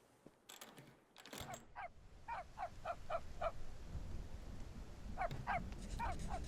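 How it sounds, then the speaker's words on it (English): A dog barks in the video game Kingdom of Night, firing off several quick, sharp barks in two separate bursts, moderately close, over a steady low background rumble. "Dog is going crazy over there."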